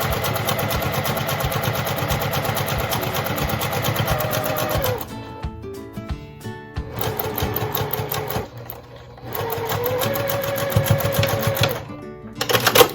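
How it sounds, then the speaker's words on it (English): A sewing machine stitches the last seam of a batik fabric napkin, its loud, rapid needle clatter running in long bursts with short pauses between them. "now we're going to go ahead and just finish this last seam off"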